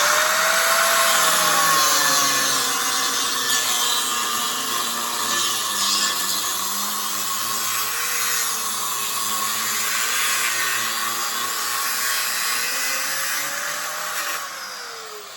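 An angle grinder with a cut-off disc cutting through a metal frame near a radiator, a steady high whine that rises and dips as the blade bites, continuous and fairly close.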